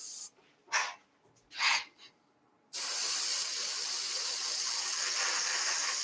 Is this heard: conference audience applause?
no